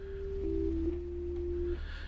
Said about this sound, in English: So now we hear just our sine wave